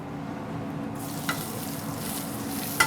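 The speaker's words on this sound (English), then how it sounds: "Get this all browned off." Garlic cloves frying in a mix of vegetable and olive oil, a steady low crackle and sizzle close by, with a couple of brief sharper pops near the end and no talking.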